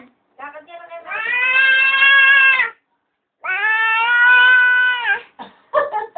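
A cat gives two long, drawn-out meows in close succession, loud and close, with short chirpy sounds before and after them.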